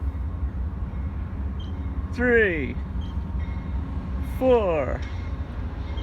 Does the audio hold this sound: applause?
no